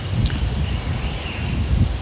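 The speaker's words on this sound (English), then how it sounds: "very windy" Gusty outdoor wind buffets the microphone as a steady low rumble with rustling, continuous and fairly loud for two seconds, with no speech over it.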